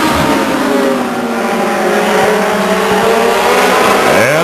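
A Legends race car screams past at Stockton 99 Speedway, its engine loud and close with rising then falling harmonic sweeps as it accelerates by, joined by other cars in a continuous roar.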